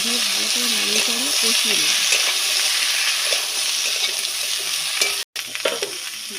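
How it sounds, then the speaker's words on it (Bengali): Vegetables and onion fry in a pan while being stirred, a loud steady sizzle with scraping stir strokes, briefly cut near the end, and a voice murmuring faintly underneath at the start. "ভালো করে ভেজে নেব সবজিগুলো একসাথে দিয়ে দেবো দিয়ে ভালো করে নাড়িয়ে করে কষিয়ে নেব"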